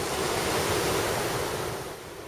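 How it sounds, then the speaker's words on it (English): Water rushing into the inlet gates of the Loup Canal, a steady, loud broadband wash like surf that fills the whole clip and eases slightly toward the end. "You can see the water as it enters into the gates."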